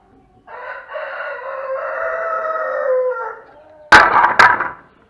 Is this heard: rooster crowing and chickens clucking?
yes